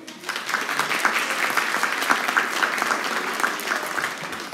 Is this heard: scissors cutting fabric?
no